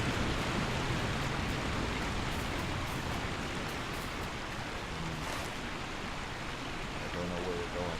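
Broad, steady rushing water from a waterfall in the game Lord of the Rings Online fills the scene continuously, with faint background game noises.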